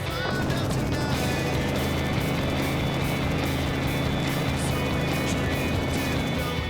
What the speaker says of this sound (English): From the air, the number 85 Jimco looked and sounded the goods.